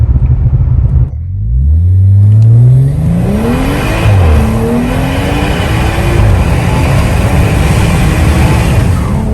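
A tuned stage 2 2017 BMW G30 540i revs hard, its engine and intake rising in a loud, close whooshing pitch sweep and then holding a strong rumbling drone.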